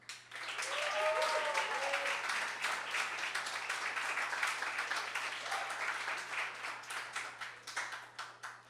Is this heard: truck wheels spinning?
no